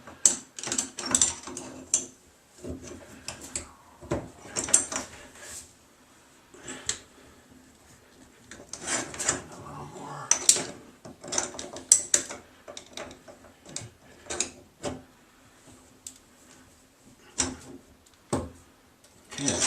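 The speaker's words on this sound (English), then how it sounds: "And here, using a Phillips screwdriver." Phillips screwdriver tightening parts of a Price Pfister bathtub valve, a scattering of close, faint scraping and clicking turns with quiet gaps between them.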